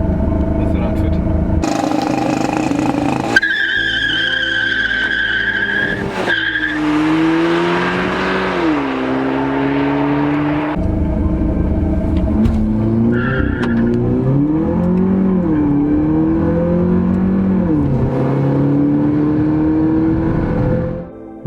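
Volkswagen Polo 8 GTI building revs for a launch-control start, with the engine note rising and falling in a sustained drone and bursts of tire squeal near the start, loud and close, under a speaking voice.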